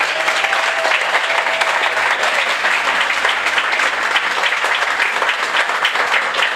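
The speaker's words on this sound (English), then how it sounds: "Let's give him a big round of applause." A crowd at a Treasure Beach thank-you celebration applauds the chairman, giving dense, steady clapping that holds at an even, loud level throughout, with a faint voice briefly audible beneath.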